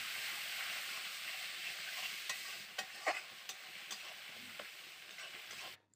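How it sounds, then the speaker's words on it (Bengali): Ginger paste with chilli and turmeric powder being stirred in a hot pan, a steady sizzle under repeated scraping and clinking strokes of the spoon, close and alone. "এবার আমি ভালো করে নাড়াচাড়া করে নিচ্ছি।"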